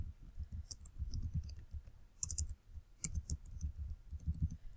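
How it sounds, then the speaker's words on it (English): Fingers tap on a computer keyboard nearby in quick, uneven bursts of soft clicks, with short pauses between groups of keystrokes. "I just start typing my questions"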